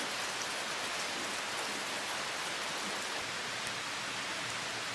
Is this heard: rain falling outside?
yes